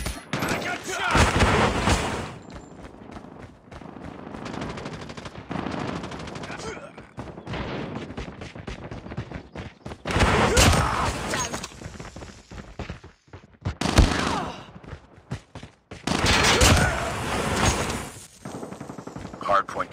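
Bursts of automatic gunfire and explosions fill a Call of Duty Warzone match, dense rattling volleys alternating with brief lulls, loud and close, with in-game voices and a player speaking over the action.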